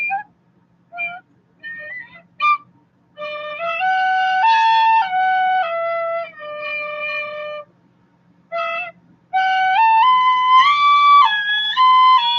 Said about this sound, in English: I'm going to pull out the tin whistle and make everybody's ears bleed